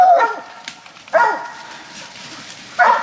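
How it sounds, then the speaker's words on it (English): Hunting dogs in the Louisiana woods bark at raccoons up a tree: three sharp, loud barking bursts spaced a second or more apart, with quiet outdoor background between them and no talking. "she just run around barking"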